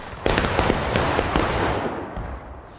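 Civil War reenactors at a skirmish fire a ragged volley on command, several sharp muzzle cracks in quick succession from nearby and farther off, then a fading echo.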